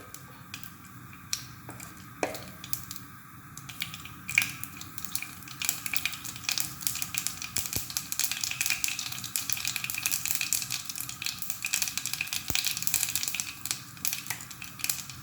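Urad dal and mustard seeds frying in hot coconut oil for a pumpkin-leaf thoran, giving a quiet continuous sizzle dotted with sharp crackles and pops scattered irregularly throughout, with no talking.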